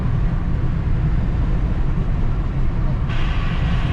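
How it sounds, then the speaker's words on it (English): Steady low rumble of a train rolling past nearby, continuous and loud throughout, with a brighter hiss joining toward the end. "Oh, look at the train."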